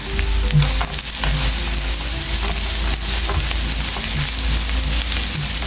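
A handful of cashew nuts frying in a pan with ginger garlic paste, a loud, dense, steady sizzle with faint stirring underneath, close and alone.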